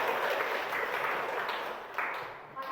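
Schoolchildren clapping together in a classroom during a lesson, a dense, steady burst of applause that thins slightly near the end.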